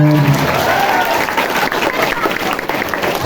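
An audience at a Ramadan religious gathering claps, producing a dense burst of applause that fades gradually over a few seconds, with some crowd murmur underneath.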